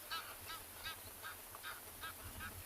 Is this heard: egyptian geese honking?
yes